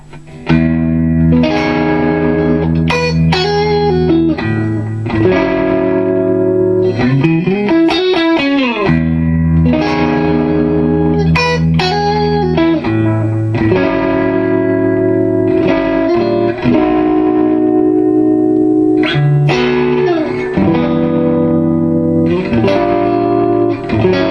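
Stratocaster electric guitar on the middle and neck pickups, through a Diezel Einstein 100-watt amp head, with a warm, slightly glassy tone, chords and bends ringing with a little reverb, no talking.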